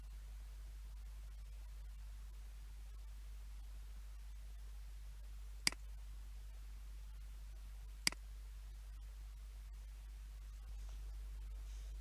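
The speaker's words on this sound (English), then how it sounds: "Now I'm clicking on all mails." A computer mouse clicks while Gmail emails are being selected: two sharp, isolated clicks a couple of seconds apart over a faint steady hum, with no speech.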